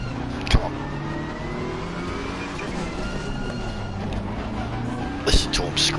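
A race car engine in the Assetto Corsa Competizione video game, revving and whining through gear changes at steady loudness, with a person speaking over it.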